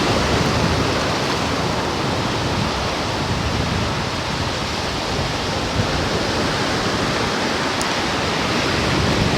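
Ocean waves wash up a beach at high tide in a continuous, loud, hissing surf roar with no voices.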